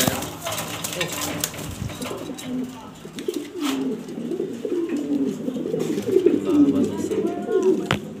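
Pigeons coo softly in low, repeated throaty calls close by, a nesting bird among them, with rustling and occasional knocks around them.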